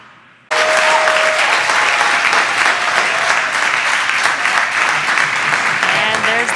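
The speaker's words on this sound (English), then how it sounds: "you can hear the crowd here very excited to see them deploy" A large outdoor crowd breaks into loud cheering and applause as the drogue parachutes deploy on a SpaceX Crew Dragon capsule returning from the ISS, starting abruptly and holding as a dense, sustained roar.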